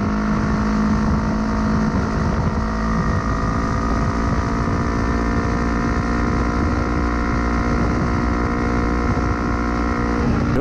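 A Kawasaki Ninja 400 on Shinko Verge 2X tires holds a loud, steady engine drone through a corner, with heavy wind rush over the microphone.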